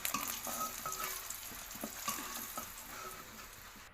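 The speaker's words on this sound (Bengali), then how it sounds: "ডিমটা তুলে নিয়ে আমি এই কড়াই আলুটা বসাবো" Crackling sizzle of potatoes frying in oil in a wok, with occasional stirring scrapes and clinks, close and fairly quiet, no voices.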